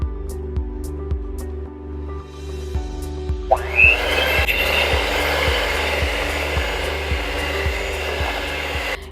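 A mixer beats sticky cider donut dough after half the dry ingredients go in, a loud steady motor whir over a regular low thumping, with the tone rising and thickening as the mixing picks up.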